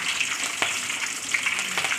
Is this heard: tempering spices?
yes